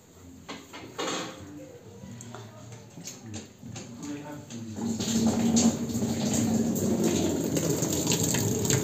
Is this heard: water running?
yes